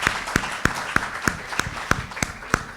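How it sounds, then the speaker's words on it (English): A small audience at a keynote address claps for the speaker and commentator. The applause comes as evenly spaced single claps in a steady rhythm, with a faint murmur under them. "a very warm round of applause"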